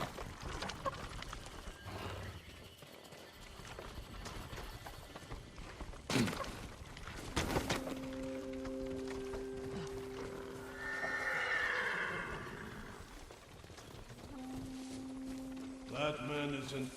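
Horses whinny and hooves clop amid a busy, layered soundscape in the video game Ghost of Tsushima, with a few tonal notes and a swelling noise partway through.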